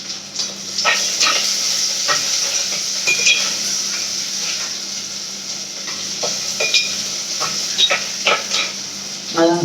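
Onions sautéing in a pan for a fish curry, a soft steady sizzle under repeated scraping and stirring strokes with a utensil against the pan, close by.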